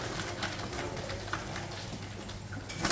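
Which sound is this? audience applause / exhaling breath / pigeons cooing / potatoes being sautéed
pigeons cooing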